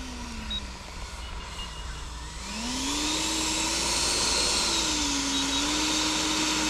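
A Freewing 90mm EDF Venom DH112 model jet's ducted fan engine holds steady at half throttle, a loud continuous whine and rush that rises in pitch partway through and then holds.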